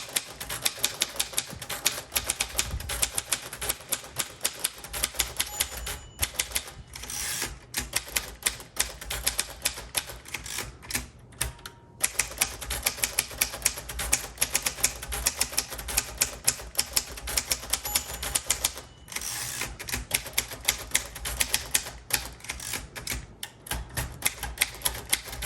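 Someone types briskly on a 1946 Royal Quiet Deluxe manual typewriter with pica type. The rapid keystroke clatter runs for about 25 seconds, broken only by brief pauses.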